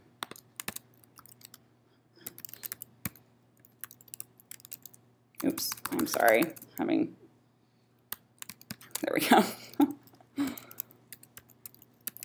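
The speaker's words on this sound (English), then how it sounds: "I hate typing in front of people" Bursts of clicky keyboard typing, quick and close, with a person speaking briefly between the taps.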